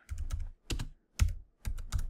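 Bursts of typing on a computer keyboard as a command is entered in a terminal, four short clusters of close, crisp key clicks separated by brief pauses, with no talking.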